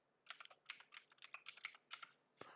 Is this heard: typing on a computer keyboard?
yes